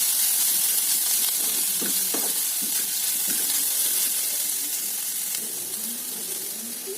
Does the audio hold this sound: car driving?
no